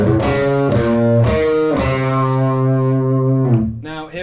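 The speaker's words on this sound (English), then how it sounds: "our first two repeats of the riff sound like this" Distorted electric guitar plays the first two repeats of a riff, a loud, sustained run of chugging power chords with sharp attacks that ring out alone before fading at the end.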